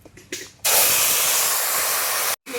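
Tomato, ginger and chili paste hits hot oil already tempered with dry red chilies, whole garam masala and cumin, setting off a sudden loud, steady sizzle. The sizzle lasts about two seconds after some soft clatter, then cuts off abruptly.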